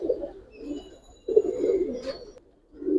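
Giribaj pigeons, a coloured pair, coo in soft, low, throaty phrases: one longer run, a louder swelling coo after a short pause, and the start of another at the close, all close by.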